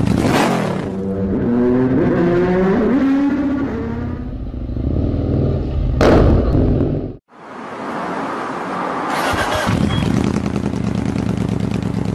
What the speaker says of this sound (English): You can probably already hear the brutal sound of exhausts from the manufacturer Esper.